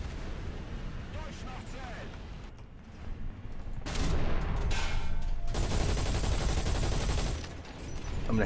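Machine gun fire from a T64B tank in War Thunder, a loud sustained rattling burst that swells midway, with booming shots and battle noise around it and a voice talking at moments.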